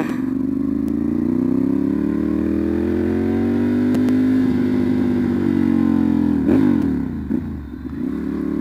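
A Ducati Monster 796 fitted with an SC Project CR-T exhaust rumbles loud and close. It holds a steady throbbing drone, then rises and falls through revs with a few sharp blips near the end.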